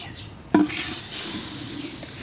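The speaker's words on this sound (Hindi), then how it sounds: "अब इस पानी के अंदर हम चीनी डाल देंगे।" Two kilograms of sugar are poured into a pot of water for flaxseed laddu, a sudden gritty rush followed by a soft, hissing settle that fades gradually.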